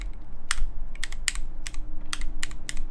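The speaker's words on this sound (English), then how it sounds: "Luxury keyboard crafter can type on keyboard he crafted?" Keystrokes on a handmade Let's Split V3 split mechanical keyboard, a slow irregular run of sharp close clicks with uneven gaps between presses over a low background hum.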